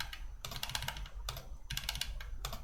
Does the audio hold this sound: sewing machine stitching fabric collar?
no